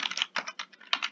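Keys on a computer keyboard clatter in quick, close bursts while R function names are typed, the keystrokes grouped into short runs with no talking.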